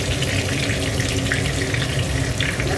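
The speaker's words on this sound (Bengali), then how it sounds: "এবার দেখো টমেটোটা টমেটোটা একটু ভেজে নেব।" Tomato frying in hot oil in a pan after dried red chilli and black mustard seeds were tempered, giving a steady, loud, close sizzle throughout with no talking.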